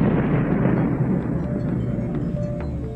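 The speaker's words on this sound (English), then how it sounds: "they end their life in a huge explosion, which we call the supernova." A supernova explosion sound effect: a deep, loud, continuous rumbling roar that holds steady for about three seconds with a few faint crackles on top.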